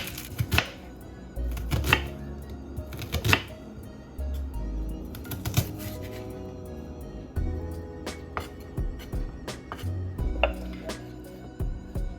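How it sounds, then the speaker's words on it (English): Onions chopped with a dull knife on a board in a home kitchen, an irregular series of close, sharp knocks and thuds with brief pauses, alone without talk. "My knife is dull and I'm not very good at chopping onions"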